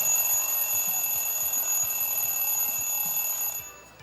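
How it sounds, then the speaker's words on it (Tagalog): An alarm clock rings with a loud, steady electronic beeping that holds for about three and a half seconds before cutting off and fading. "Alarm. Alarm clock."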